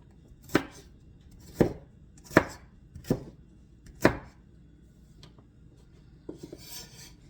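Five distinct knife chops through potatoes on a board while preparing meatball soup, sharp and close, spaced about a second apart, followed by a few lighter taps and a soft scrape at the end.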